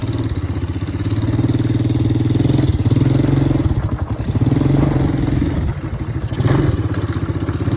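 An ATV quad bike engine runs close by with a steady mid-pitched rumble, rising and falling as it revs and pulls away, with mechanical clatter and no voices.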